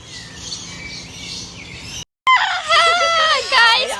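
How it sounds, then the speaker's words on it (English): Birds call at close range at Bird Paradise Singapore, a soft chatter of chirps followed by a brief drop-out and then a burst of loud, shrill repeated calls. "There are so many birds here at close distance."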